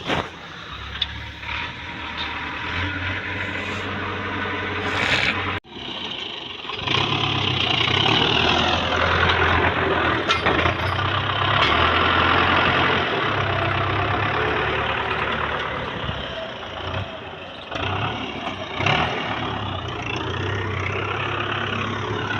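A Russian Belarus tractor engine labours while driving in a sand pit, a loud, steady low drone with a short dip partway through, then carrying on without voices.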